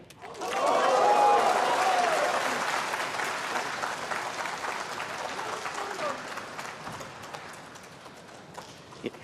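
A snooker crowd applauds at a tournament match, the clapping swelling quickly to a full, dense roar and then slowly thinning out over several seconds, with a commentator's voice audible partway through.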